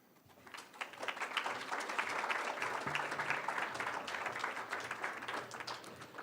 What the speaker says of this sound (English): let's keep that applause going for those Warren Tech students